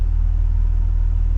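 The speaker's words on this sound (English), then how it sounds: "I got the car running" A car engine idles steadily at close range, a low, even rumble with a regular pulsing throb and no other sounds.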